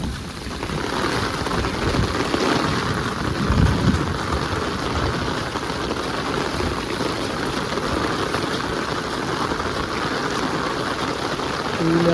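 Heavy rain pours down steadily over flooded farmland, a continuous dense hiss with low rumbles of thunder rolling underneath, no talking.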